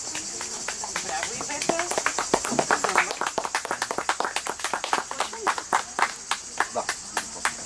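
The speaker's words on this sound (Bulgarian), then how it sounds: "най-вече за вашите аплодисменти за Ивета Илиева" An audience claps after Iveta Ilieva recites the poem "За чиста и свята република" in Vasil Levski's town; dense clapping swells to a steady run of distinct claps that thins toward the end, with voices underneath.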